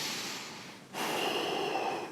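Steady, close breathing during a yoga twist for a tight back: one long breath that breaks off briefly, then a second broad, airy breath that carries on to the end, with no talking.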